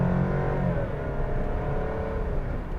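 A 2023 Alfa Romeo Stelvio Estrema sports SUV accelerates hard with its tires spinning, a steady engine rumble with a rising, wavering tone at moderate distance.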